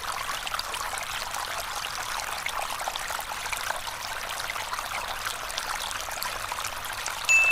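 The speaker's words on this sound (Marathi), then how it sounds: "हा घाट चढताना मध्ये आपल्याला हा डुक्करदऱ्याचा धबधबा दिसतो" Dukkardara waterfall in the Sahyadri hills during a monsoon trek, a steady broadband rush of falling water, continuous and even throughout with no talk.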